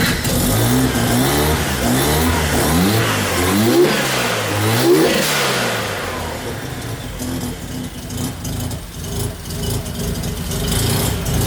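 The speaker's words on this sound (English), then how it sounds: "So now you can actually hear the difference of the car with a working map sensor." A Mazda RX-7 FC drift car's engine, newly fitted with a working MAP sensor, revs in rising and falling sweeps before settling into a loud, steady idle, heard up close with no talk.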